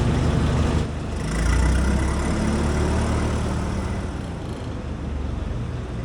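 An old-school forklift engine running close by, a steady low rumbling idle that swells briefly as it's throttled up, then settles back into a continuous drone.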